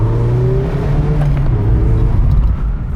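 A 2016 Mazda Miata MX-5 accelerating hard, its engine note droning loud and close as the revs climb steadily, with no voices.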